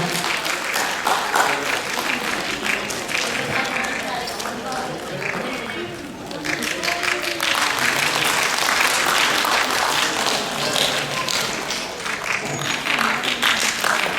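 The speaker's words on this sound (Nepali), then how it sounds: "उहाँलाई जोरदार तालीका साथ स्वागत गरौँ सम्मान पत्र ग्रहण गर्नुका लागि" Loud, sustained crowd applause welcomes an honoree to the stage at a Gyalpo Losar cultural celebration and award ceremony, rising and dipping briefly in the middle, with a voice heard over the clapping.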